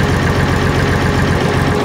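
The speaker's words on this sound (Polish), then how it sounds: "Silnik chodzi 70 godzin. Pięknie pracuje." The replacement engine of a Bizon 5056 combine harvester runs at a steady idle, close up and loud, with a continuous low rumble.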